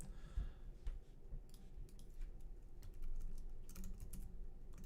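Someone types on a computer keyboard during a software session, a quick irregular patter of soft key clicks, close and fairly quiet, running continuously with no talk.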